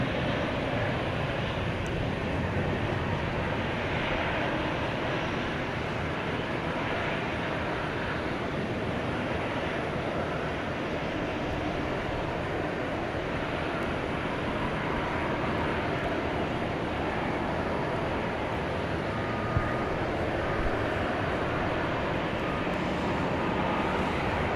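An airliner bound for Sydney after pushback from Terminal D at DFW Airport at night gives a continuous, broad engine roar, moderately loud and steady across the whole stretch, with no voices.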